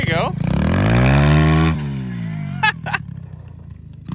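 A pit bike engine revs hard and steadily as the rider holds a circle wheelie on a snowy, icy mountain outing, rising pitch then cutting off, followed by a couple of sharp blips and a low idle, loud and close.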